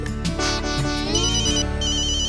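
A phone ringtone rings out loud and steady as the boss calls, a bright repeating electronic melody over a low hum, with no talking.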